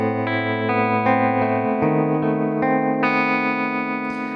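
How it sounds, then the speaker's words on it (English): Electric guitar played through an emulation of an old Fender Twin Reverb amp, sustained chords changing every half second or so with a rich, slightly driven, effected tone, played alone. "emulation of the old Fender Twin Reverb."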